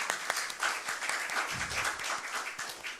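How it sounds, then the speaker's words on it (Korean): An audience at a residents' public hearing on Seoul ecotourism and Dorimcheon stream claps together, a steady patter of many hands sustained throughout with a few sharper individual claps standing out. "여기 참석해 주신 모든 분들께 진심으로 큰 박수와 감사를 보내드립니다"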